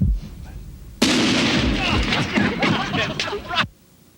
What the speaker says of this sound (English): can you believe the devastation of this fireworks?